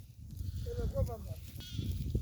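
Sheep and lambs give a short bleat close by, heard once under someone speaking.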